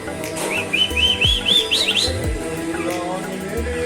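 A parrot hanging upside down gives a rising series of short chirping whistles over a noisy background with people nearby, at a temple town in Chitrakoot.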